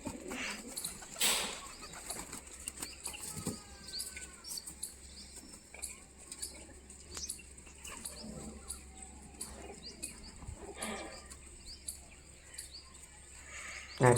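Pigeons coo softly and intermittently while pecking at scattered grain, faint and fairly distant, with occasional wing flutters and light rustling in a quiet setting.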